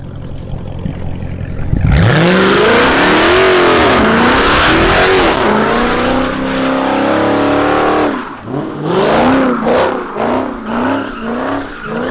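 A Mopar car in a legal street pit in Oklahoma City bursts into a loud, close roar, holds a screaming rev with spinning tires, then pulses through a series of rising and falling revs.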